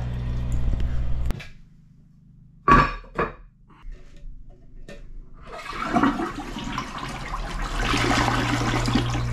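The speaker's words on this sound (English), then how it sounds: "Turn the water onto the toilet." Water rushing and trickling as a toilet tank refills after the cold supply is turned back on, starting faint and swelling into a steady hiss, with a couple of sharp knocks partway through.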